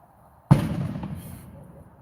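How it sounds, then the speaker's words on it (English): A single loud firework blast bursts out sharply about half a second in, then rumbles and crackles as it decays over the next second and a half, heard outdoors with no talking. "Fireworks."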